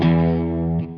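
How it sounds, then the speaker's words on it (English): A single sustained guitar chord rings through a Maxon SD9 distortion pedal, thick and buzzing with harmonics, then cuts off abruptly after under a second. "And this is with the pedal on."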